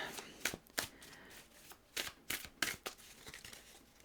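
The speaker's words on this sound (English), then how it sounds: "I'm going to shuffle these cards here" Tarot cards being shuffled by hand, a series of quiet crisp riffling bursts and soft slaps in an irregular rhythm, close but faint.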